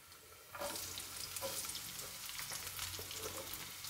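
Chopped onion drops into a hot pan where ginger is already cooking for macaroni pasta, setting off a sudden loud sizzle that keeps crackling with stirring scrapes and pops, close up.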